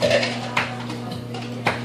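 Rinse water is tipped out of a ceramic Hario V60 dripper and cup, giving a couple of sharp ceramic clinks over a short splashing pour close by.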